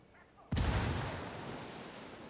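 A frag grenade detonates in a video game shooter: one sudden, loud broadband blast that hits hard and then rolls off into a long, slowly fading rumble, with no talking.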